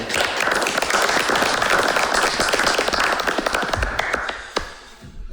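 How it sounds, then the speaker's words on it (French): A room of people applauds at a town council meeting in Grande-Rivière, a busy patter of many hands clapping that stays full for several seconds, then thins out and ends with a few scattered claps and a thump. "Un bel main d'applaudissement."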